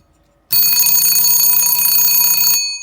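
On its loud setting, a 1941 Westclox Baby Ben style 5 alarm clock gives a harsh, rapid metallic ring that bursts in suddenly and rattles steadily for about two seconds before stopping, close-up and alone.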